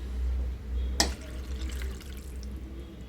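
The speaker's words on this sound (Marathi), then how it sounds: "त्याच्यात एक ग्लास पाणी टाकायचं" A short splash as a glass of water lands in a pot of spinach and potato curry near the one-second mark, followed by faint trickling and a low steady hum in the background.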